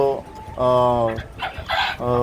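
Hilly chickens of the BLRI breed cluck on a poultry farm, short clucks and calls heard close up under someone talking.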